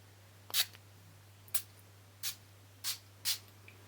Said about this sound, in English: And then just another spritz.